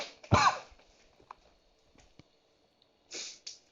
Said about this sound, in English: so that you don't have to hear me coughing so much